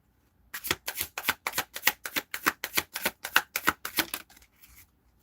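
Tarot cards riffled in a rapid run of about sixteen crisp shuffling bursts, close and steady, trailing off into a few softer taps at the end with no talk.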